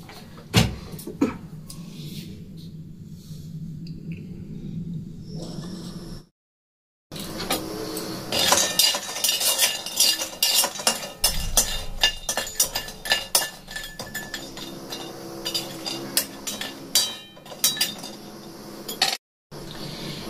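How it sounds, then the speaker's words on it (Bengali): Dry bori lentil dumplings rattling and clinking in a hot dry wok as they are stirred, a busy, close run of hard little knocks and scrapes with brief pauses. "এই বড়িগুলোকে আমি প্রথমে একটু ভেজে নেব শুকনো কড়াইয়ে"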